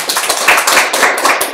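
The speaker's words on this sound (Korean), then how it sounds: "박수 한번 칠까요?" An audience at a Rails programming meetup claps together, a loud burst of quick, overlapping hand claps at close range, steady and dense for a moment, with no voices over it.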